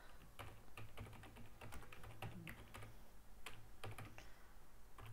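Close, quiet keystrokes tap irregularly on a computer keyboard while entering citation details into a word processor, with faint clustered clicks over a low background hum.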